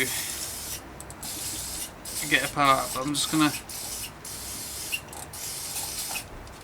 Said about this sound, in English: spray some lube on it to start with, just to get stuff flowing